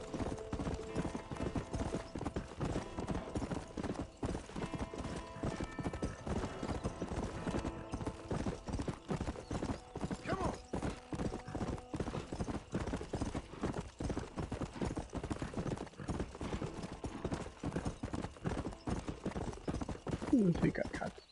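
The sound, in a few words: horse running in video game Red Dead Redemption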